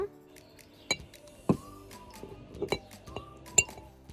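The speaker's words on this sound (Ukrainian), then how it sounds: "Обережно, обережно ложимо яйця." Eggs are set carefully into drinking glasses, making a series of light glassy clinks and taps, spaced irregularly and close by, in a quiet room.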